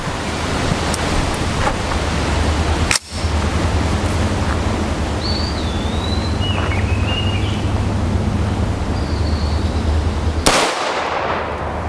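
Rifle shots from a 20-inch AR upper with 1-in-9 twist, firing M193, M855A1 and 50 grain TSX rounds into CATI NIJ Level III+ steel body armor outdoors: two sharp, loud cracks several seconds apart over steady wind rumble.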